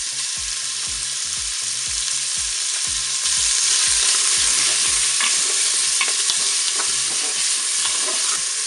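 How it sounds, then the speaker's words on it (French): Tuna sizzling and frying in hot oil inside a Cookeo multicooker, a loud, continuous crackle with occasional stirring scrapes, close up and with no voices. "Alors qu'est-ce que je vais faire? Eh bien, je vais mettre mon thon dans la cuve."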